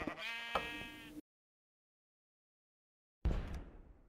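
Sheep bleat in a video game, a short harmonic call followed after a silent gap by a second bleat.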